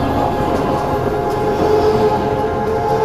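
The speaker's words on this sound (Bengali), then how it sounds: "ট্রেন চলতেই থাকে আর আমি অজ্ঞান অবস্থায় পড়ে থাকি" A train rumbles steadily along, a continuous close mechanical roar with faint rhythmic rattling and no voices.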